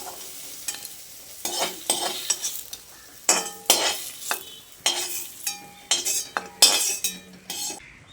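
Fried bitter gourd pieces lifted out of a hot pan of mustard oil, a metal spatula scraping and clinking against the pan in repeated bursts over a soft continuous sizzle.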